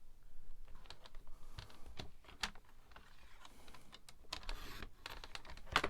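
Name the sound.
cutting paper card for a craft project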